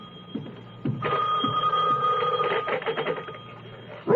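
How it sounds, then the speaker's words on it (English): A telephone rings in a Santa Monica apartment in a live radio-theatre murder mystery, a loud bell burst lasting about a second and a half, then a second shorter ring, with brief voice sounds around it. "the phone was ringing"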